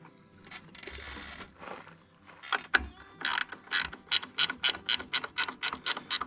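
A ratchet tightens carriage bolts that thread into the plastic housing of a trailer light. Scattered mechanical clicks give way to a steady, evenly spaced run of sharp ratchet clicks, close and clear, with no talking.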